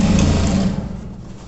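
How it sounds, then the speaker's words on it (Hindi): Sewing machine stitching a pant seam, a steady close motor whir that runs strongly and then fades toward the end, with no voices. "इसके बाद ऐसे सिलाई करते हुए चल देंगे।"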